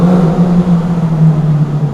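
A 400cc motorcycle engine runs loud and close, holding a steady throbbing drone with slight surges in pitch, with no talking.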